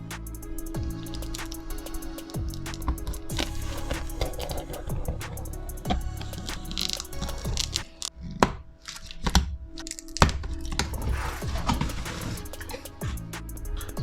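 A Ground Zero GZRW 15-inch subwoofer's shipping box being opened, with scattered cracks, thunks and cardboard handling noises at close range over several seconds, without talk.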